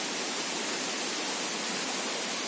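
Grobogan Sewu waterfall in the rainy season with high water flow, a constant broadband roar of falling water, steady and unbroken with no voices.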